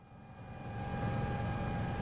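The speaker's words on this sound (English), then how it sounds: "now this is a wheeled helicopter" A wheeled helicopter in Microsoft Flight Simulator 2024 drones with a steady engine and rotor roar that swells slightly, carrying a constant whine over the low rumble, alone with no talk.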